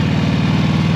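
A Harley-Davidson twin-cam motorcycle engine with a five-speed transmission idles nearby in a steady, low, throbbing rumble that stays even throughout, with no voices.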